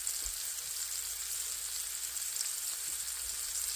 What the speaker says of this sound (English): I am cooking some mushrooms